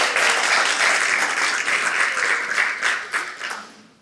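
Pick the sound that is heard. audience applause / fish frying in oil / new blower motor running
audience applause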